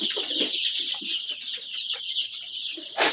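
Young brooding chicks on day five chirp continuously in a dense, overlapping chorus, close and steady, with a few louder peeps standing out near the end.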